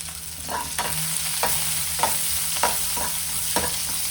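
Onion and green chilli frying in a pan with cumin seeds, a steady bright sizzle broken by regular spoon scrapes about every half second, close and fairly loud with no talking.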